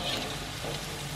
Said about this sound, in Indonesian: Ya, kita goreng sampai coklat keemasan.